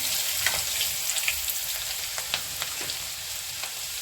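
Ginger, chili and garlic paste fries in a pan with a steady close sizzle, broken by light scraping clicks from stirring, while chole masala is cooked at home.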